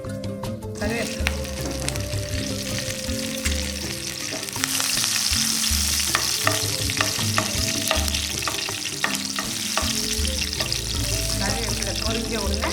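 Curry leaves splutter and crackle in hot oil in a pan while a prawn fry is being made, a steady close sizzle with sharp pops throughout, over a low droning hum.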